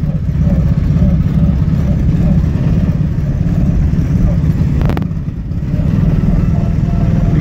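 A small engine drones steadily and close, its mid-range buzz holding under faint cabin noise as it pulls along.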